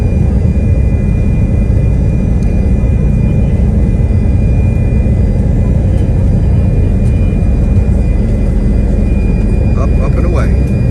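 An Allegiant airliner takes off from Orlando Melbourne International Airport with a loud, continuous low engine roar that holds steady throughout.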